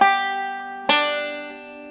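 A banjo is picked in a square roll pattern, with two bright ringing plucks about a second apart that sustain and decay, close and alone.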